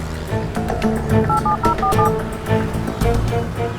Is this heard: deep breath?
no